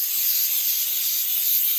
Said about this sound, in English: So I'm going to spray the pan down.